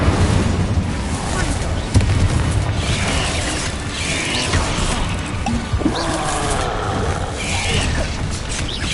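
In the video game Hogwarts Legacy, the Bombarda explosion spell goes off amid dense, continuous combat noise, with a heavy blast and crashing debris. A voice calls out over the loud battle.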